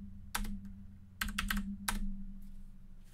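Someone types a password on a computer keyboard while setting up a LUKS encrypted home directory: short quiet bursts of key clicks in a few quick clusters, close and alone over a low hum.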